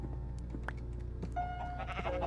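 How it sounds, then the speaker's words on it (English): A purple sheep bleating in Minecraft, one short faint bleat over a steady hum of background game music. "Oh yeah, there's a purple sheep."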